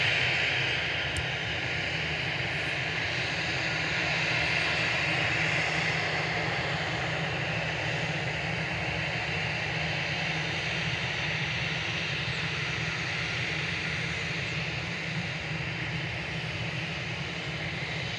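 A steady, distant airliner roar from a jet departing Manchester Airport for Belfast, a broad even rumble holding for the whole stretch with no talk.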